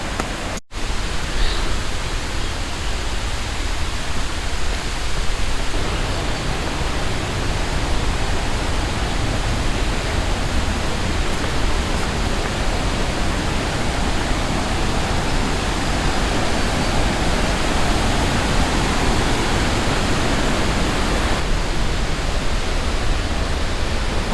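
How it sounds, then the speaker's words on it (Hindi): A steady, dense roar of rushing water from Mawu Waterfall near Anini fills the whole clip, constant and broadband, with no voices. "आवाज़ तो आ रही है, वाटरफॉल नहीं दिख रहा।"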